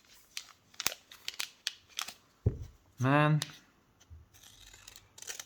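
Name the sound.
scissors cutting open a Flesh and Blood card booster pack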